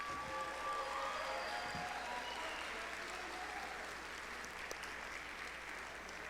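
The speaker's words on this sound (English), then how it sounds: "let's give a huge round of applause to the 2019 seniors" An audience at a high school spring band concert applauds the graduating seniors, with dense, even clapping filling a large hall at moderate distance and holding steady throughout, a few faint voices mixed in.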